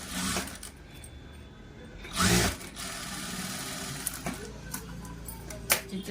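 A sewing machine stitching the lining of a blouse runs in a steady, whirring mechanical drone close by, with a brief louder burst partway through and small clicks of fabric handling.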